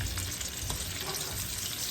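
Pieces of food for a Chinese dinner deep frying in oil at about 380 degrees, a dense, steady bubbling sizzle heard close up with no voices.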